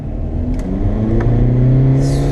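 A car with a DSG gearbox in sport mode accelerates hard from low speed, its engine note rising loudly and steadily with a spinning whir and faint high hiss near the end.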